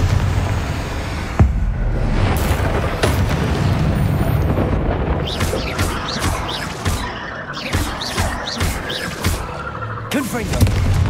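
Confringo spell blasts in Hogwarts Legacy: a loud, close, rumbling explosion followed by sharp crackling bursts, with a voice briefly heard.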